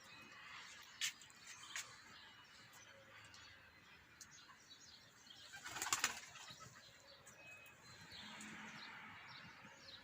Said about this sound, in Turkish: Görmüş olduğunuz gibi kuşumuz uçuyor